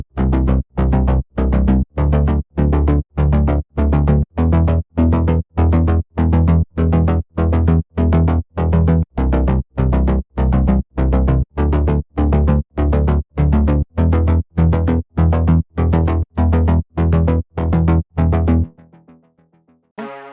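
Synthwave bass line built in FL Studio Mobile with high frequencies cut and sidechain compression, a loud, steady stream of evenly spaced pumping notes for about eighteen seconds before a brief tail.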